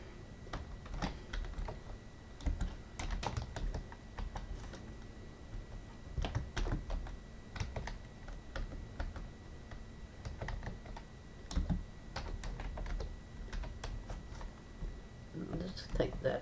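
Quick, irregular clicks of typing on a computer keyboard run continuously at moderate level, with a voice talking softly underneath.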